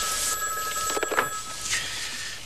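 A telephone bell rings in short bursts indoors, a bright warbling trill that sounds once and then again, with no talking over it.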